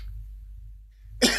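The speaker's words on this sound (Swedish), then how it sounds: "Jag hostar." A single short cough bursts out near the end after a stretch of near silence.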